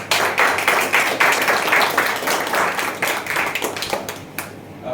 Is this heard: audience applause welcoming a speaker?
yes